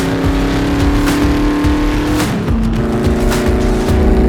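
Car driving at over 200 km/h: a loud, sustained engine drone with rushing road and wind noise, pitch shifting slightly midway as the speed holds high.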